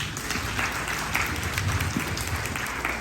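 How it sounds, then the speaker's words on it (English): Dense, continuous applause from an audience at a health fair in Dallas, greeting a political candidate taking the stage, loud and sustained without speech on top. "Everybody please give candidate Gwen a round of applause"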